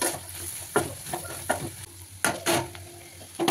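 A spatula stirs two spoons of chili powder into a sizzling egg and broad bean curry in a pan, with several sharp scraping strokes over a continuous frying hiss.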